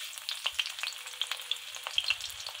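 Chopped onion frying in hot oil in a wok, a close crackling sizzle of quick irregular pops over a quiet background, no voices.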